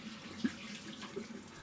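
Brief, faint run of tap water splashing into a sink while hands are washed, soft and close for just over a second.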